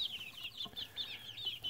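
Five-week-old chicks peep and cheep in quick high chirps with soft clucks, faint and close, with light rustling beneath.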